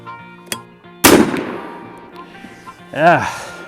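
Airforce Texan .510 carbine air rifle firing a single sharp, loud shot up close, followed by a fading echo, with brief voices and a short exclamation after the shot.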